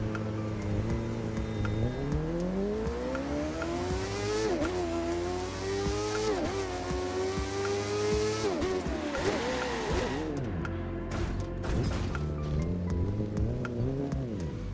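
A Kawasaki GPZ 900 R Custom motorcycle engine in the video game The Crew 2 revs up and down repeatedly, its pitch climbing and falling through gear changes, loud and continuous with no talking.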